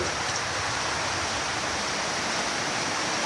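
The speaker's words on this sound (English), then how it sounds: "There's a river coming in under my wall." Floodwater rushes in under a workshop wall during heavy rain: a steady, close, loud hiss of churning water that stays constant throughout, with no talk.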